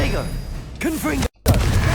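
A Confringo spell explosion in Hogwarts Legacy, with heavy booming blasts and rumbling bursts mixed with a voice calling out, a brief silent gap, then another dense burst of noise.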